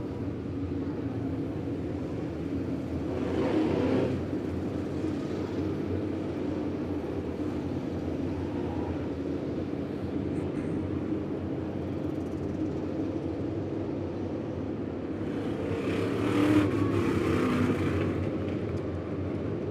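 Race cars rolling slowly around Lebanon Midway Speedway produce a low, steady engine rumble heard from a distance, swelling twice as cars pass nearer, with no talk over it.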